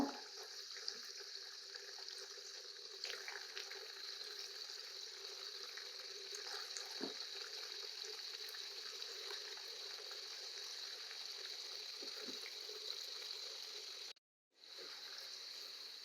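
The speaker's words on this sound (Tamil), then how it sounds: "நல்லா பொன்னிறமாக வர வரைக்கும் திருப்பி திருப்பி விட்டு வேக வச்சுக்கலாம்." Potato pakoda frying in hot oil at medium flame, turned repeatedly until golden, gives a steady, continuous sizzling hiss throughout, with only a brief break near the end and no talking.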